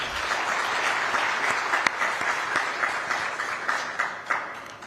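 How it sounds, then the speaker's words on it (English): Audience applauding drama performers at a development event, a sustained dense round of clapping at moderate volume with a few sharper individual claps standing out toward the end. "Let's clap for them again."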